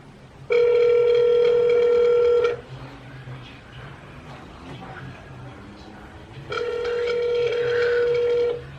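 A telephone rings on a call in two long electronic ring bursts separated by a pause, fairly loud and close, with faint background voices in the gap.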